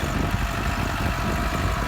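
A Massey Ferguson MF 385 tractor's diesel engine runs steadily in a farm field, a continuous low rumble at moderate level with no talk.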